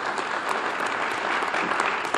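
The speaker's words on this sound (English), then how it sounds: "So a round of applause to you, Raul." An audience at a New Bedford police promotion ceremony claps for an honoree named Raul, a brief, full burst of many hands applauding together with no one speaking over it.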